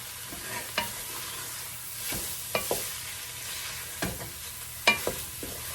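Thawed vegetarian bolognese sauce stirred in a warm pan, a soft low sizzle under repeated close scraping strokes and knocks of the spoon at an uneven rhythm.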